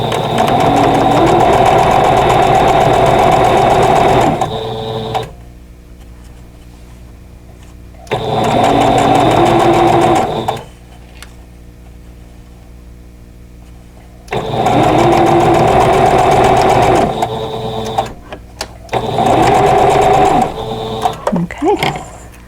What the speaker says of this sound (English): sew those seams together